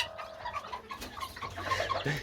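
A broody hen clucks in a cluttered coop, a run of low, repeated clucks and soft calls mixed with other bird chatter and rustling, fairly close and steady throughout.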